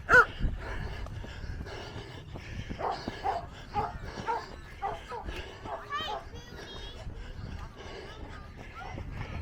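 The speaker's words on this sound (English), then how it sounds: "Who are you barking at?" A dog barks several times outdoors along a running route at Point Loma, amid steady street and ambient noise, with a person talking over it.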